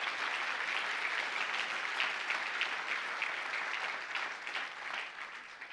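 A church congregation applauds steadily together, a dense, even wash of clapping that holds for several seconds and tapers slightly toward the end, with no voices over it.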